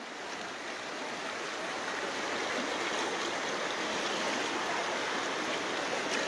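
Strong floodwater current rushing through a flooded village around homes, a steady, loud broadband roar that holds unbroken and slightly swells over the whole stretch.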